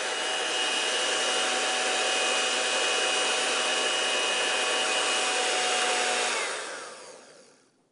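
An electric whisk beats egg whites to stiff peaks, a steady close whirring drone that holds level for about six seconds, then winds down and fades out.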